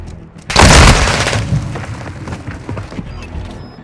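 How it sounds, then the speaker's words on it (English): A stun grenade detonates in Call of Duty Modern Warfare II multiplayer, a loud, close, sudden boom that fills the whole range, then rolls into a fading rumble with scattered crackles and distant battle noise. "Stun grenade out!"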